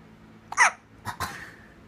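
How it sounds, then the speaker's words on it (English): A baby hiccups, two or three small, sharp, close hiccup sounds in quick succession, with no talking. "You got some strong hiccups."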